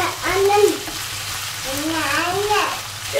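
Chicken and oyster mushrooms sauté in soy sauce in a pan, a steady low sizzle as the mix is stirred, with voices, including a child's, talking over it.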